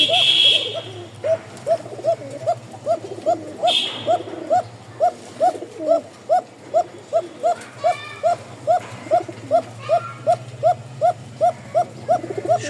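Kokka pigeons cooing in a long call: a steady, rhythmic train of pulsed coos repeating roughly twice a second for over ten seconds, close and fairly loud over a faint low background hum.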